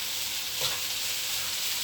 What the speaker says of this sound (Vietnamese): Mình chiên cái này là bỏ nó nhiều. Chủ yếu rau củ quả cho mấy em nhỏ nè.